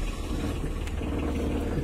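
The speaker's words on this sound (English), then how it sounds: "Got a little engine starting." A marine engine aboard a Catalac 12M catamaran running just after starting, a low, even rumble with a faint rhythmic chug, close and continuous.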